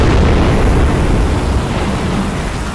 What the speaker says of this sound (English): we're gonna be making distress rockets